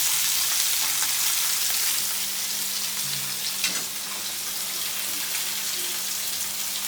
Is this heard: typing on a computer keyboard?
no